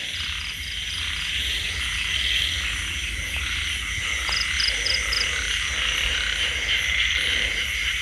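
Many frogs croaking at night in a Thai wetland, a dense continuous chorus with insects chirping steadily around them, close and fairly loud, with no talk.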